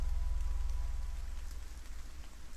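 Steady drizzling rain in a forest setting from a horror video game, a continuous soft hiss with a low rumble underneath, fairly even throughout with no speech.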